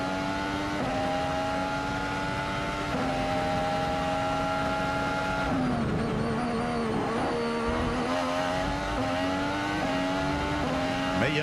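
A Formula 1 car in qualifying at the 2019 Canadian Grand Prix screams past at high revs, then its engine note drops sharply under hard braking before climbing again.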